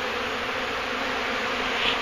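A hive removal sets off a thick, constant buzzing from a large swarm of honey bees, loud and close throughout with no voices.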